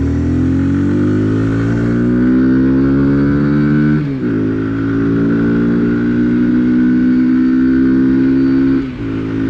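A Honda Grom motorcycle engine revs loudly and close while it is ridden, its pitch climbing steadily through long pulls, with two brief dips at gear changes. No voices.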